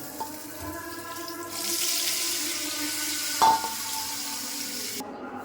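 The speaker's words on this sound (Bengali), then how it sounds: "এখন চিংড়ি মাছটা ভাজা দেব।" Prawns frying in a frying pan on a stove: a soft, steady sizzle swells after a quiet start and holds to the end, with one sharp clatter midway and no voices.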